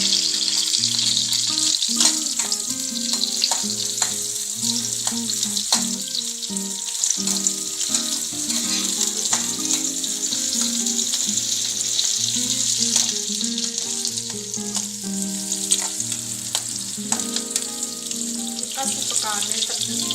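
Onions frying in a pan for Punjabi-style bharwa bhindi do pyaza, a steady bright sizzle throughout with occasional stirring clatter and a faint voice in the background.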